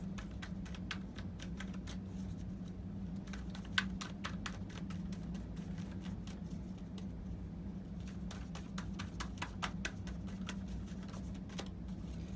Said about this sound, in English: So let's finish shuffling.